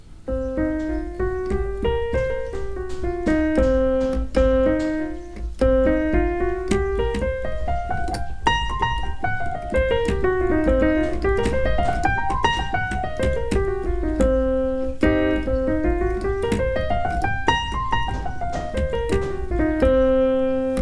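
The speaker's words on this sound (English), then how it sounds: "All right, that is a blues scale. So C blues scale." A keyboard plays a C blues scale note by note, climbing and descending several times at an even pace, clear and unaccompanied.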